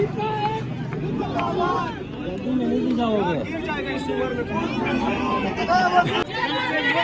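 A large crowd of journalists protesting the PICA act marches toward D-Chowk, a dense babble of many voices and chatter close by, with a reporter speaking over it.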